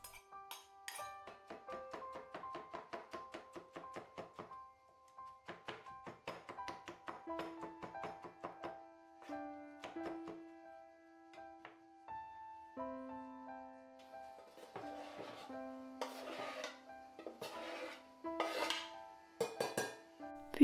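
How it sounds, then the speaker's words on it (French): Small leftover vegetables being chopped for a quinoa stuffing, a fast rhythmic patter of knife strokes on a board in repeated bursts, close and fairly quiet. "Je hache tous les petits restes de légumes pour l'ajouter à la farce."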